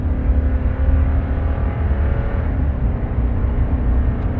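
A 5.7 engine on a pulling rig running steadily after fuel is put through it, a loud, continuous low rumble with a throaty idle that holds close and even throughout, no voices.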